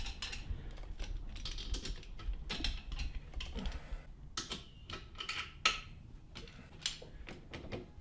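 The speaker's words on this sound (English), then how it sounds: "We're tightening down the motor clamps." Motor clamps on a VLR 100cc bike are tightened by hand, a run of small metallic clicks, taps and ratchet-like ticks, close and irregular with no talking.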